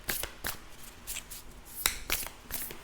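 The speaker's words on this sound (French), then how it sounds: "Je vais vous tirer encore quelques cartes." Tarot cards are drawn and shuffled close by, giving quick papery flicks and snaps in irregular bursts at a soft level, with no talking.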